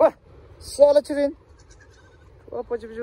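Goats bleat in short, wavering calls, one at the start, a pair near the middle and another toward the end, loud and close, with quiet gaps between them.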